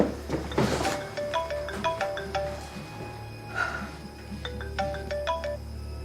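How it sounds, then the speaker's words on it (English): A mobile phone rings inside a house, its repeating melodic tone muffled behind a door and heard from outside, with a steady hum underneath throughout. "I've rung Ellie's phone over and over. I can hear it in there"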